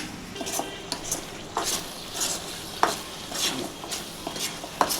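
Masala with cloves frying in oil in a pan for hotel-style coriander chicken fried rice, a soft sizzle broken by repeated spatula stirs and clinks against the metal pan, close by, with no talk.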